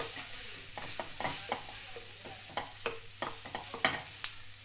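Potatoes sautéing in a pan, for aloo paratha and tikki: a steady sizzle with scattered scraping and clinking strokes of a spoon stirring them, close and moderately loud.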